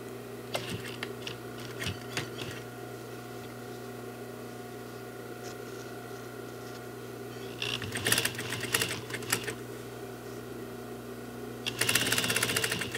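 An electric sewing machine back stitches a seat cushion cover for a reupholstered sofa, its steady motor hum broken by short bursts of rapid clattering stitching near the middle and end.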